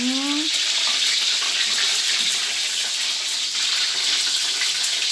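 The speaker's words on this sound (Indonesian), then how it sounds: "aku mau menggoreng terong aja untuk makan malam" Eggplant frying in a pan of hot oil, a loud, dense, continuous hiss and crackle right up close, with a faint voice briefly at the start.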